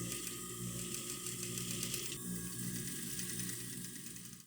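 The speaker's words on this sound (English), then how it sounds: "I'm just gonna overlock and then continue on the rest of the pants" An overlocker serger runs steadily over the edges of denim jeans pieces, a continuous dense whirring mechanical hum with fine rapid clatter, close and loud, holding for the full stretch before cutting off at the end.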